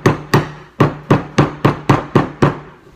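An old thrift-store meat cleaver strikes down through meat in eight sharp, evenly spaced chops, each close, loud and quickly decaying, with no talk.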